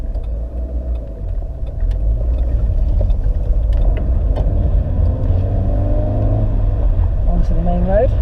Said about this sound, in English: See how it picks up. Into third. Yeah, it pulls along nicely.